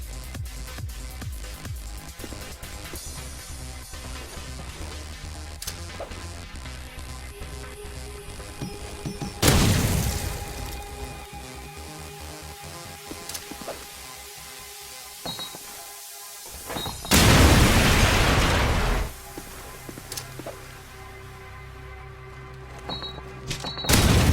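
Grenades exploding in Call of Duty 4 ProMod on the Crash map: two loud, broad blasts several seconds apart, each with a rumbling tail, set against continuous game ambience and background music.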